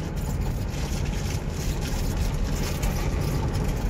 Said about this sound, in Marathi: गाडी पळते 100च्या स्पीडला